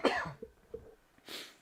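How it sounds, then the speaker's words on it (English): Two or three coughs sound faint and off-mic, with a couple of small throat noises in between and a final breathy cough at the end, all brief and muffled. "I have to cough and I don't have a mute button on my mic,"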